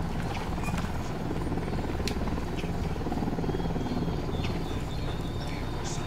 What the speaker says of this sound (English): We'll need that chopper.